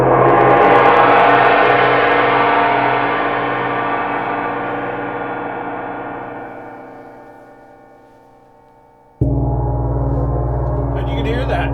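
A Paiste bronze gong struck at its center rings with a loud, rich shimmer that slowly decays over several seconds, then a second strike bursts in, full and sustained, close up with no talking.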